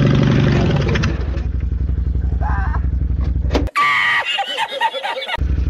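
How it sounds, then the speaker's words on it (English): A mud-bogging lawn mower engine held at full throttle while stuck in mud, a loud steady droning roar that cuts out abruptly near the end, with clattering and brief voices mixed in. "I'm full throttling this shit until I'm out of this place"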